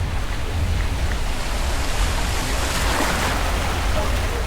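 Water pouring and rushing over the edge of a flume ride boat at Busch Gardens Tampa Bay's Stanley Falls, a loud, dense, continuous wash with wind noise on the microphone.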